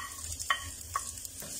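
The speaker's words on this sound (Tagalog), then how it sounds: "Isusunod po natin itong sibuyas natin." Onion is added to browned garlic in a hot pan for a sweet and sour kingfish dish, giving a steady sizzle with a few soft stirring scrapes.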